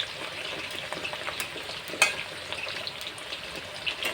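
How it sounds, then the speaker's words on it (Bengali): Potatoes frying in a pan for aloo dum, a steady soft sizzle with faint stirring and scraping, close and continuous without voices. "ভালো করে আমি আলুটাকে লাল লাল করে এপিট ওপিট ভাজবো।"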